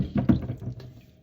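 Washed fennel seeds draining in a strainer, with water splashing and trickling through in a short, soft burst of drips that quickly fades.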